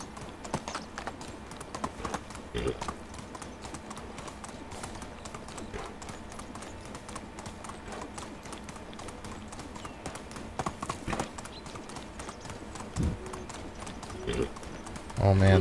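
Horse hooves clip-clop in the medieval life-sim game Medieval Dynasty: a steady run of loud, sharp hoof strikes under an almost constant talking voice, with a few heavier thumps mixed in.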